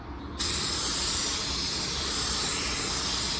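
An Iwata LS400 spray gun at roughly 22 PSI, fan and fluid wide open, lays down pearl tri-coat car paint with a sudden, loud, steady hiss that starts after a brief quieter moment and holds to the end.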